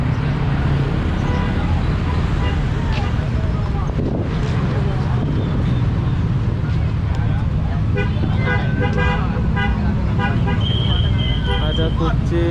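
Street traffic around a bus bound for Bekasi in East Jakarta, with engines rumbling continuously, horns tooting in short bursts toward the end, and people talking close by.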